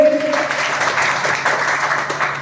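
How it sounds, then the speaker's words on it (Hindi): Audience applause at an RCM direct selling meeting in Maihar, a steady wash of many hands clapping throughout with a voice faintly present underneath. "इनके सम्मान में जोरदार ताली होनी चाहिए"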